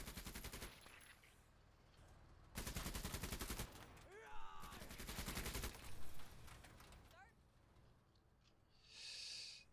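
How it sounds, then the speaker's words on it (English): Machine gun fire in the Menace strategy game rattles out in several rapid bursts separated by short pauses, with odd warbling whistles sounding in the gaps. "Machine gun those bastards."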